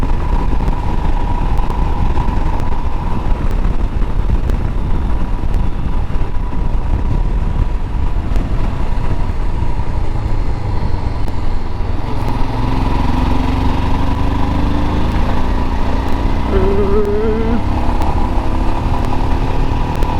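Royal Enfield Himalayan single-cylinder motorcycle engine running steadily while riding on a test ride, a continuous close drone with wind rumble and no talk.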